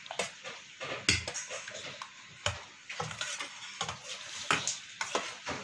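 A spoon stirs a spiced yogurt mixture with salt, black salt and chaat masala for dahi bada, making repeated wet scraping and clinking strokes against the bowl in an uneven rhythm, close up and with no voices.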